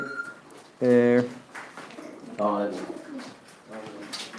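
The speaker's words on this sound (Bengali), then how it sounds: "বদরুল ভাইয়া খুব সুন্দর সুন্দর কবুতর বিভিন্ন জাতর কবুতর" Fancy pigeons of various breeds cooing on a pigeon farm in Biswanath, Sylhet: two loud, rounded coo bursts stand out, with softer calls and people talking in between.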